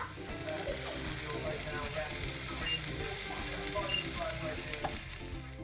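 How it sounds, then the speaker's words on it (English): Onions sautéing in ground beef grease in a pan give a steady, close sizzle with occasional stirring scrapes, running continuously throughout with a faint voice in the background. "you're just going to want to saute these until they're just starting to get translucent"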